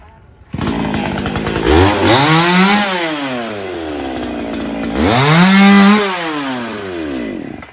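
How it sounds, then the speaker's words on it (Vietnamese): A chainsaw roars loudly up close, its engine revving high twice as it bites through a large Java plum tree beside a road, easing off briefly between the two pushes. "các anh sẽ cưa cây trăm này như thế nào nha"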